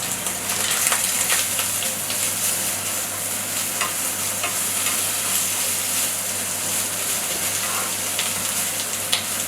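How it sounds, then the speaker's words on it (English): Onions and peppers fry in a pan for an omelet, giving a loud, continuous close-up sizzle with faint stirring scrapes throughout. "I'm going to go ahead and put my onions and peppers in there right now."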